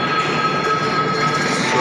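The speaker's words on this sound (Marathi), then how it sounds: "ही सुवर्ण मंदिर मेल ट्रेन आहे" Suvarna Mandir Mail train standing at a station before departure for Amritsar, a loud continuous rumble and hum of the train with a faint squeal, nearby and steady.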